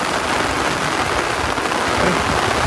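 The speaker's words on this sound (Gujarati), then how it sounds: "ફૂલ ધોધમાર વરસાદ ચાલુ છે" A heavy village downpour roars steadily, a thick, loud wash of rain striking the ground and nearby surfaces, unbroken and without voices.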